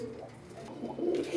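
A Gorra pigeon coos softly and briefly, a low murmuring call rising near the end over a quiet background.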